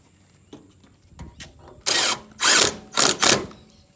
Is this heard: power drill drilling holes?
yes